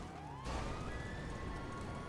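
A police car siren in a transforming sumo video game, a rising wail that jumps in loudly and holds steady tones, fairly faint overall with no talking.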